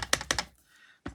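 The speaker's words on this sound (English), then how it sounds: "Stamping." A rubber stamp pressed onto paper during cardmaking, a few quick close taps and thuds in a short burst, then a pause and one more tap.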